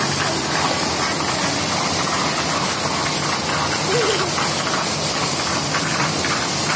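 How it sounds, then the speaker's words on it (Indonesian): Strong wind driving heavy rain makes a loud, dense, continuous rush and hiss that stays steady throughout, with no voices above it. "Anginnya kencang banget."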